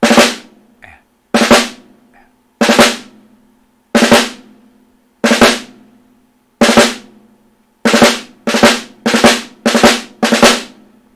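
Sharp snare drum ruffs, each a quick cluster of grace strokes into an accent, played alone at steady spacing, some groups closer together toward the end.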